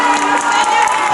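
Event audience at a knights-versus-barbarians show cheering and clapping for a female barbarian warrior, a loud, brief burst of crowd noise with shouts and a steady tone running through it.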